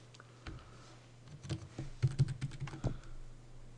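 Computer keyboard keys being pressed, including the Alt key, while drafting in an architecture CAD program: a quick cluster of close, clicky keystrokes in an irregular rhythm over a low steady hum.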